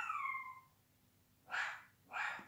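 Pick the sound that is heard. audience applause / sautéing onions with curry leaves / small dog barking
small dog barking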